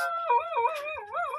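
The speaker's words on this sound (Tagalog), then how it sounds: "Anong pangalan ng aso na yan?" A dog howls in one long, wavering, rising-and-falling cry, close and loud, with no other sounds around it.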